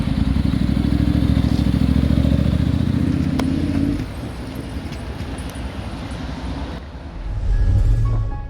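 A Honda X-ADV motorcycle carrying a rider and dog on a long road trip, its engine droning loud and steady with strong low rumble, easing off briefly midway before swelling again near the end, with wind noise throughout.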